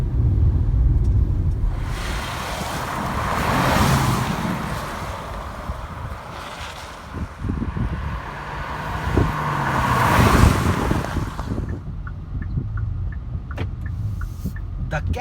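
Kia Seltos SUV accelerating on a highway, heard from inside: low engine and road rumble swelling and easing in waves, with faint clicks near the end.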